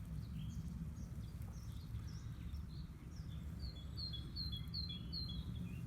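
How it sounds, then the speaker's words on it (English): Bird chirps and short whistled calls sound at a distance over a steady low rumble, growing clearer and more frequent toward the end. "Can you hear a bird on the background?"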